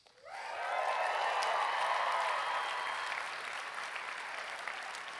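Enthusiastic audience applause fills a hall during a Catholic conference keynote, rising quickly to a dense, loud roar of clapping that holds steady, then eases slightly while continuing to the end.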